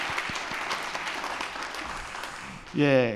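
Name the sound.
audience applause in church service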